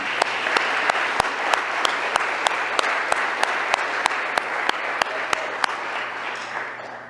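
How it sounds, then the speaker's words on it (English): A morning ceremony audience claps for the honorees, a continuous wash of applause with one nearby clapper's sharp, evenly spaced claps standing out on top, tapering slightly at the end. "Please join me first in a round of applause for all our honorees beside me this morning."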